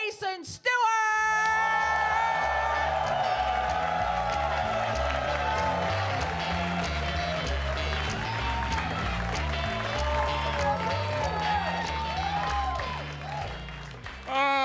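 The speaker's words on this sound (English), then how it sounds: "Please clap it up for my friend, Jason" Comedy-club audience at Gotham Comedy Live applauding and cheering loudly as a comedian is introduced, a steady dense roar with whoops and yells over music, holding for most of the stretch before tapering at the end.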